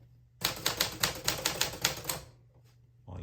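Typing on a 1959 Smith Corona Sterling manual typewriter: about a dozen loud, crisp keystrikes in a steady rapid rhythm, close by, then a pause and a final clack, with no voices.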